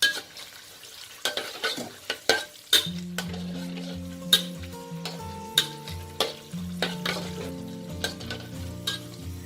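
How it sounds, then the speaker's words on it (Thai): Chillies frying in hot oil in a pan over medium heat, a steady close sizzle broken by repeated metallic stirring clinks and scrapes against the pan, with no talking. "เราจะไม่ใส่พริกลงไปทอดทั้งทางที่น้ำมันร้อนจัดนะคะ"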